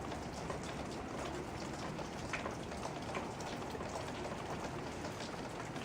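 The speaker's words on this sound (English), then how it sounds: "And it is raining." Steady rain falls outside as a dense, even hiss of drops on surfaces, continuous and moderately close with no voices over it.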